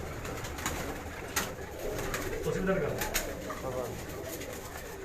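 Two or three pigeons coo in a low, rolling burble close by, with short sharp clicks or wing sounds, while someone speaks briefly over them.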